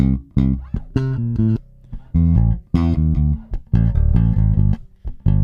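Plucked bass guitar notes played one after another in a chromatic run down to the root, clear and close, with short gaps between some notes.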